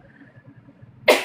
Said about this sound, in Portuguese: Deixa eu só espirrar aqui.